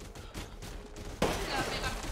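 Bursts of gunfire crack amid background game noise in Resident Evil Village, during a boss fight against Mother Miranda, with a sharper, louder volley of shots kicking in partway through.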